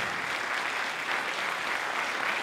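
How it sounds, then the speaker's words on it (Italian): A theatre audience applauds a town band's concert, the dense, steady clapping continuing without a break and filling the hall at an even level. "Questo è l'applauso che è il teatro ma è anche la città di Modena."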